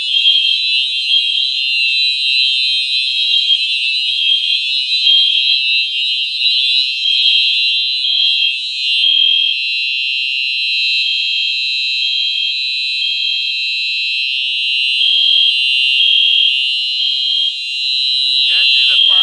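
A brand-new Simplex 4903-9241 fire alarm sounds continuously for about nineteen seconds, a loud, steady, piercing electronic tone that holds without a break until a brief change at the very end.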